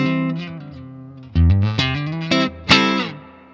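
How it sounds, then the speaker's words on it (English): An electric guitar played straight into an amp with no pedals and only the amp's reverb, a few sustained chords and single notes ringing out and decaying with a reverb tail, loud and close. "So that's my guitar amp with no nothing, no pedals engaged, just on amp reverb"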